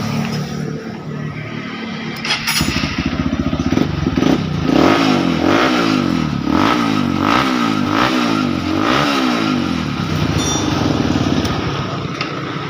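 A Honda CRF150 motorcycle engine starts up and revs, loud and close, with a rough idle that rises into repeated throttle blips and mechanical clatter.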